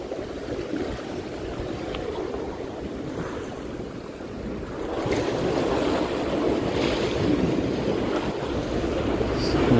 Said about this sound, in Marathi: जसं बोट येते.